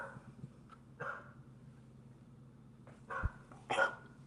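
A dog barks in the background of a podcast-style recording: a few faint, scattered yips early, then a louder pair of barks near the end, with no talk over them.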